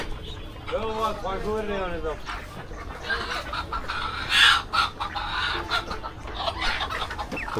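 Chickens at a busy chicken market cluck repeatedly nearby, with a brief crowing call early on, while people talk over the birds throughout.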